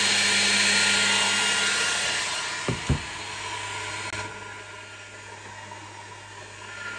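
An ACMER P3 diode and infrared laser engraver runs with its lid closed, giving a steady broadband machine whir with a constant low hum, plus two brief knocks near the middle, all without speech.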